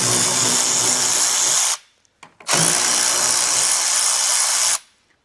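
Power drill run in two long bursts, loud and close, backing out 8mm screws from the underbody tray of a BMW 3 Series, with a short pause and a few clicks between runs.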